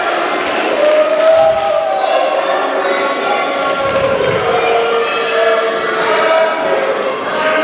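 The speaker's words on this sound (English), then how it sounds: "the crowd letting the franchise know how they feel about him." A wrestling crowd at an IWA East Coast show reacts loudly and continuously to Shane Douglas, a dense roar of voices and shouts with scattered thuds from the arena.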